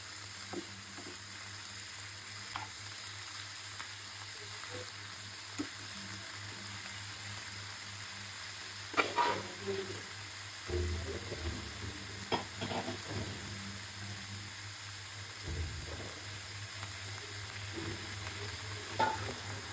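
Vegetables frying lightly in ghee in a pan, a steady soft sizzle with occasional stirring scrapes and clatters, close and alone with no voices.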